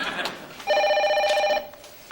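A telephone rings with a bright electronic trill, one sustained burst after a short lead-in, fairly loud in a quiet room.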